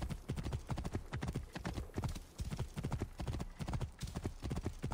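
A horse gallops in a video game, hooves pounding in a quick, steady rhythm of close clip-clop beats that run without a break.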